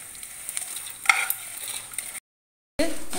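Kamarkas being roasted and stirred in a pan over a medium gas flame, a steady light sizzle with scraping stirs and one sharper clink, cut off by a short silence before the frying resumes.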